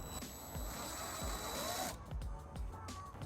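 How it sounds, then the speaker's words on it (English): A power drill with a 3/16 bit boring holes in the bottom of a 2017 Fiat 500c bumper: a whining motor runs steadily, then cuts off, leaving a few quiet knocks and handling sounds, fairly faint and close. "we're going to use a 3/16 drill bit to drill that out"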